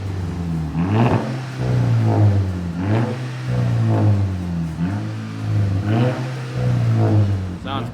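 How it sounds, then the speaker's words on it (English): A Volkswagen GTI engine revs repeatedly through a loud, raspy exhaust with a resonator and muffler delete, rising and falling in several throttle blips, close by with no talking. "that is the exhaust all wrapped up with the resonator and the muffler delete."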